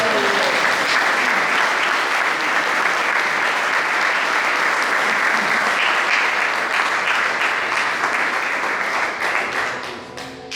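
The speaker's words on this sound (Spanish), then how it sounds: "¿Qué tal si le da un aplauso a Dios por eso?" A church congregation applauds steadily for about ten seconds, dense sustained clapping that fills the room before tapering off at the end.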